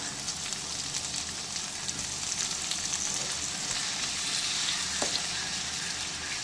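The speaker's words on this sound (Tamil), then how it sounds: "இப்போ இது கூட 2 பழுத்த தக்காளி ஆட் பண்ணி நல்லா கிளறி விட்டுக்கலாம்." Two ripe tomatoes fry in gingelly oil for a Kerala-style chicken gravy, giving a steady close sizzle with faint scraping from stirring throughout.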